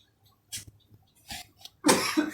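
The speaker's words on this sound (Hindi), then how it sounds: "सॉरी खांसी आ रही है।" A single sharp cough, then a louder, harsher cough with a throaty follow-up, close to the microphone with quiet pauses between.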